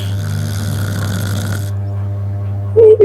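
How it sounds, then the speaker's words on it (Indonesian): Man asleep snoring loudly, a deep steady droning rasp held continuously close by, with a brief louder snort near the end. "Kenapa ngorok suamiku kayak begini?"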